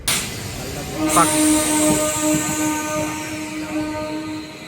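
A train pulls away from Guntur Junction on a Danapur to SMVT Bangalore special service, giving a steady rumbling hum with sustained tonal whine and broad hiss, plus a brief louder burst near the start.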